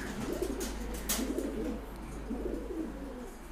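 Pigeons in a breeding loft, newly paired birds, give low, soft, rolling coos that repeat in overlapping phrases. The sound is close and steady throughout, with no talking.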